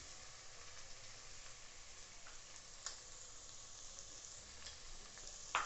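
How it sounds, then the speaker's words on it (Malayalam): Onions sautéing in a pan with garlic, ginger and green chili, a steady soft sizzle with occasional faint clicks of stirring, close but quiet, no voices. "ഇനി നമുക്കതിലേക്ക് സവാള ഇട്ട് വഴറ്റിയെടുക്കാം"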